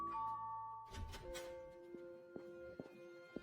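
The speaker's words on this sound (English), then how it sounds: "the doorbell rings." A doorbell rings indoors, a clear electronic chime with sustained tones followed by a few soft knocks or clicks, fairly quiet and alone without talk.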